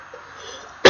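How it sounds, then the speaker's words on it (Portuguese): A single sharp, close cough bursts out after a near-silent moment of faint room tone. "Eu tô com tosse porque eu tenho tosse."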